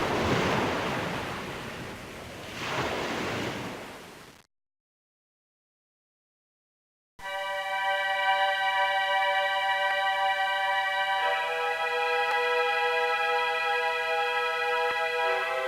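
Waves washing on the shore of a little sea in the Windows 3.1 game Tales of the Wild Zeep, a broad surging wash that stops into silence, then a steady synthetic tonal drone.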